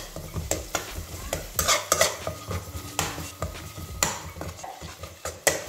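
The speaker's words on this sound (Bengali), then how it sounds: "খুব ভালোভাবে কিন্তু মশলাটা 5 থেকে 7 মিনিট সময় নিয়ে কষিয়ে নিতে হবে।" Masala for Punjabi chole is stirred and fried in a pan, with a spatula scraping and clinking against the metal in an uneven rhythm over a light sizzle, close and without talk.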